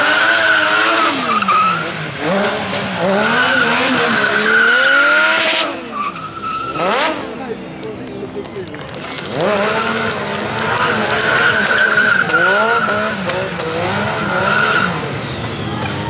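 Tires squeal and skid in long sweeping waves as a motorcycle drifts at a motorcycle show in Montbéliard, the engine rising and falling loudly throughout, with a brief lull midway before the screeching slides resume.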